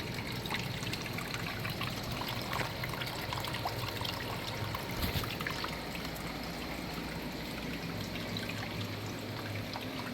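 Water trickles and flows steadily through an indoor grow setup, a continuous, even dribbling wash that holds at moderate level throughout with no voices.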